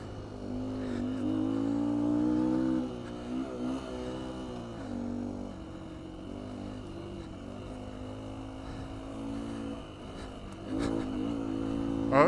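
A 2019 Beta 125 RR-S dirt bike fitted with a 150cc Yamaha big bore kit idles and revs in a low two-stroke drone that rises and falls, with a slightly louder push near the start and end.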